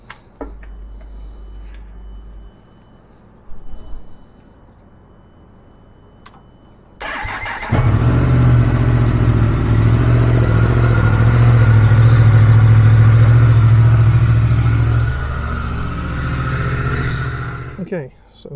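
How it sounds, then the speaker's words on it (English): A Yamaha MT10SP motorcycle engine starts after about seven seconds of quieter handling noise, then idles loud and close with a steady low rumble while warming its oil, before cutting off near the end. "what I need to do is warm that oil up in the engine so that it actually comes out a lot"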